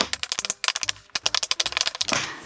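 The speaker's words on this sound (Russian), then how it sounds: "Он с двух сторон кликает одинаково." A pop it fidget toy being clicked, rapid crisp pops in quick bursts separated by short pauses, loud and close with no voices.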